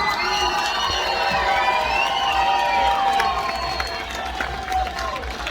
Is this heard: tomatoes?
no